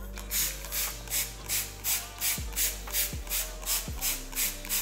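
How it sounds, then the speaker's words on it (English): Rapid, regular hissing spritzes from a spray bottle, about a dozen bursts in a steady rhythm, faint and close, with no talking. "I'm gonna go with the spray bottle of just water"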